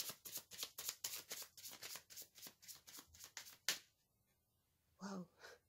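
Tarot cards being shuffled and drawn from a deck, close and crisp, with a quick run of riffling flicks ending in one sharp snap, then a brief breathy sound after a short pause.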